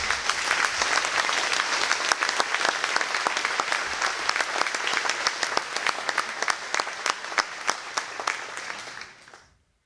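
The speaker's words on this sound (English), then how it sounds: "I would like a round of applause for all of you." A conference audience applauds in a dense, sustained round of clapping that stays loud throughout, then fades quickly at the very end.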